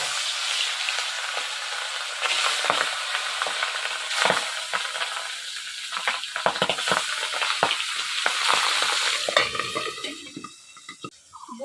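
Boal fish frying in hot oil for a Bengali village dish, a loud close crackling sizzle with sharp bursts of spattering and occasional clinks of a utensil against the pan, easing off near the end.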